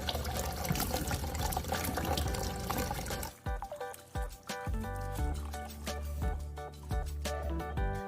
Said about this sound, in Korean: 요거 이제 헹궈서 물기를 제거해 주겠습니다